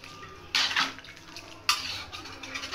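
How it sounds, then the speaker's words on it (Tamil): A spoon scrapes and clatters around a pot in two short bursts, stirring coconut milk into a thick chicken dalcha curry, with quiet pauses between. "தேங்காய் பால் சேர்த்துட்டு நல்லா கிண்டி விடுங்க"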